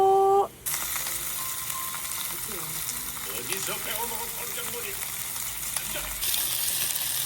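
Meat sizzles and crackles steadily in a hot pan, loud and close, with a voice murmuring briefly under the frying noise.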